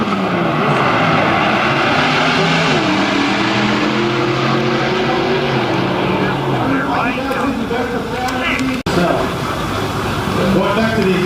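V8 car engines revving at a Race Wars car show exhaust rev contest, a loud continuous roar with rising and falling pitch sweeps, heard under crowd noise and a voice over a PA.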